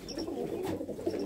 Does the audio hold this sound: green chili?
no